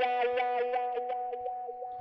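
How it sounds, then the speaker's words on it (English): A melody pattern in FL Studio run through a wah distortion effect, giving a buzzy, distorted synth line with rhythmic choppy pulses and a sweeping filter, loud and steady with no voices. "Then I took a wah distortion,"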